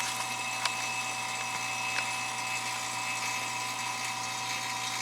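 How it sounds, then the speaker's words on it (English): A vacuum pump pulls vacuum on a 2003 Toyota Tundra 3.4L air conditioning system, a steady mechanical hum with a constant whine and faint ticking, unbroken and close by. "the yellow line hooks right into your vacuum pump right here"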